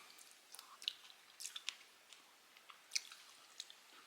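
Soft, close chewing of rice cooker castella sponge cake, faint moist squishing bites scattered irregularly with no talk.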